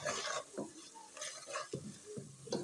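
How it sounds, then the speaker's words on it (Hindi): Red chili powder and turmeric stirred into a sizzling kadhi masala, a spoon scraping the pan in repeated strokes over a steady frying hiss, close and moderately loud with no talking. "लाल मिर्च का पाउडर ऐड करेंगे और 1 टीस्पून हल्दी अच्छे से मिक्स करेंगे।"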